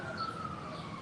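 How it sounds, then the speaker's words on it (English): Emergency vehicle sirens wail outside a courthouse, a steady high-pitched tone heard at moderate distance over a low street hum. "What you hear are some emergency sirens, first responders, that are happening going by."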